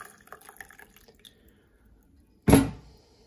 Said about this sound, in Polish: Zalewamy ciepłą wodą do rozpuszczenia.